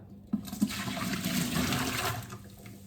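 Tap water gushes steadily at close range while a limescale-stained kettle is washed, a short rushing stream that starts abruptly and lasts a few seconds.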